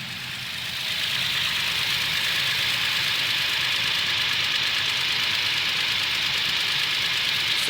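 A Toyota Tacoma engine idles steadily at operating temperature, a close, constant mechanical hum with a faint repetitive ticking or knocking woven through it, no voices.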